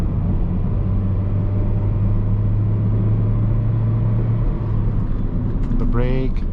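A 2004 Toyota Corolla G nearing 100,000 km hums with a steady, close engine drone inside the cabin during a sprint test, then the revs climb sharply in a rising whine near the end.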